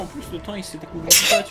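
A single sharp sneeze bursts out close to the microphone in the middle of casual talk between people during an Okami HD game session.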